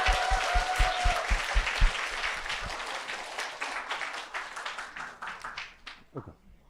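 A lecture audience claps, at first in a few loud rhythmic beats, then breaking into scattered applause that gradually thins out and fades.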